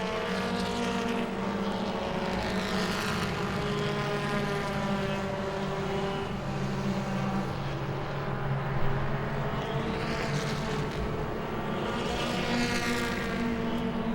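Super trucks race around Langley Speedway, a dense, steady engine drone from several trucks holding a constant loud roar with harmonic whine, swelling slightly as the field passes, no talk over it.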